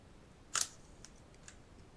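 A Honeywell Tiltamite flash fitted to a camera fires with one sharp, close shutter snap, followed by a few faint, scattered ticks in otherwise quiet surroundings.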